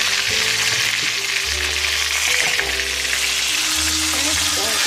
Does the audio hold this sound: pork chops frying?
yes